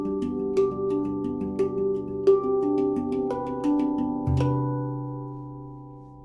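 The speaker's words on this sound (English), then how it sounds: "You can hear how the notes start to blend and build together." A stainless steel handpan is struck note by note, each tone ringing on so the notes overlap and build into a sustained shimmering chord, close and clear, then decaying slowly after the last strike.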